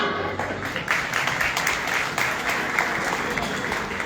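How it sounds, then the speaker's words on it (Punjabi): A crowd of employees claps at a protest rally at the secretariat over a 16% dearness allowance demand, giving loud, dense, sustained applause from start to end with no speech on top. "ਜੋਰ ਨਾਲ ਤਾੜੀਆਂ"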